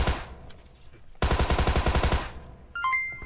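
Automatic gunfire from the VOORRIX shooter game: a tight burst of about a dozen rapid shots, loud and close, followed by a pause and some brief electronic tones.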